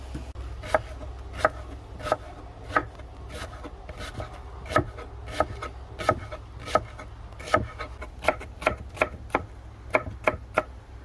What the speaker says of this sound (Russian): Мелко нарезаем репчатый лук